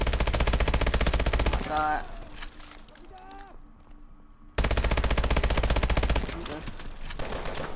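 Rapid automatic gunfire in Call of Duty: Advanced Warfare, played on the campaign's Veteran mode, comes in loud sustained bursts at the start and again near the end, with a quieter stretch between where a player talks.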